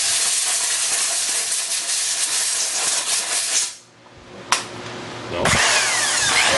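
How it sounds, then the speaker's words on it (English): A loud electric drill whirs steadily, winds down to near silence, gives a brief burst, then starts up again at full speed. "I haven't used this drill in ages."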